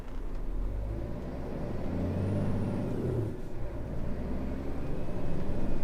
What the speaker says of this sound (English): How nice does it sound, this truck? It sounds amazing.